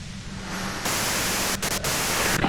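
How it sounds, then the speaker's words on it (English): White noise static hisses through the video game Disco Elysium, starting softer and then jumping louder to a dense, flat broadband roar that briefly drops out a few times before surging back. "If you've got something really important to say, you can do it through the white noise"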